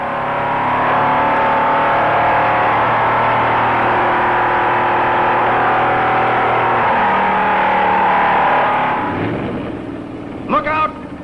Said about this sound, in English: Look out! Fast cars coming through.